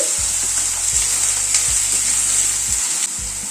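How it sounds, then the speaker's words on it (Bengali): Finely chopped onions fry in a pan over a medium gas flame, a dense steady sizzle heard up close, with the thuds and scrapes of a stirring spoon at a regular rhythm. "গ্যাসের ফ্লেমটাকে মিডিয়ামে করে দিয়ে পেঁয়াজটাকে হালকা করে ভেজে নিচ্ছি।"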